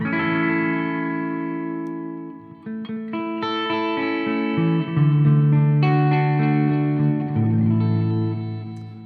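An electric guitar plays through a Marshall Code 50 amp on its American Clean setting, ringing chords and single notes with sustained tails and some echo, alone without talk.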